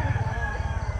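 Gamecocks and stags kept in a Filipino backyard flock, with a rooster's drawn-out crow ringing close and loud through a short moment.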